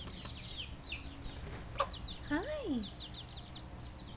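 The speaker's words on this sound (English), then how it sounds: "There's a rooster and the babies." Rooster and chicks on a farm, with soft clucks and chirps scattered through the clip and one clear rising-falling rooster call near the middle. A person speaks briefly over the birds.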